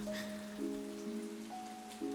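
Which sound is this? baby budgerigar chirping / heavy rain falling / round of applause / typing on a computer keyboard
heavy rain falling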